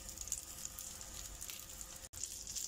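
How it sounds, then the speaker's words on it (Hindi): A chicken crepe fries in a pan with a steady, soft close sizzle throughout and a brief dropout near the end, no talk. "एक साइड से फ्राई करके हम दूसरी साइड से भी इसको पलट के फ्राई कर लेंगे"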